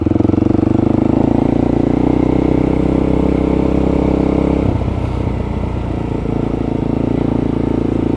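A motorcycle engine drones loud and steady while riding along Kentish country byways and lanes, with a sustained low rumble that shifts pitch partway through as the throttle changes.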